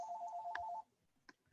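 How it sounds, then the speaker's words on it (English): A phone rings with a steady electronic tone for most of a second, then cuts off, followed by a couple of faint short clicks in an otherwise quiet room. "you hear my phone ringing? This is annoying."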